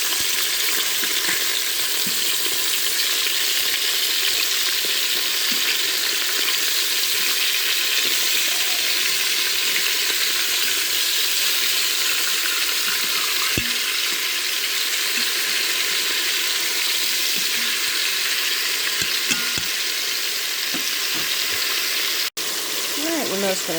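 Chicken thighs seasoned with salt and pepper fry in a pot for Brunswick stew, a steady loud sizzle running throughout with faint occasional clinks and a brief knock near the end.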